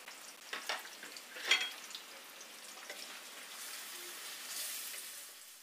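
Chopped onion and garlic fry in a pan for achari daal, making a quiet, soft sizzle with a few brief stirring clatters near the start before a steadier low hiss takes over.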